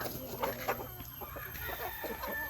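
Darag native chickens cluck softly in a backyard range house, giving scattered short clucks and murmurs at low volume over faint background hiss.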